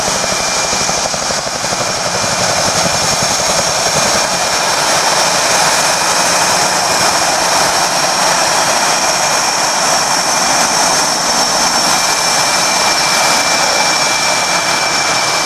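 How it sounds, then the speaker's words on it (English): Steady roar of UH-1 Huey helicopter rotors and turbine engines at an airshow, loud and continuous throughout, with no voices. "the recon team is inbound in UH-1 helicopters"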